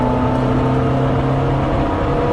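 A Triumph-powered rubber bumper MG Midget accelerates hard to merge onto an interstate, its engine droning loud and steady with a strong, continuous whir and no talk.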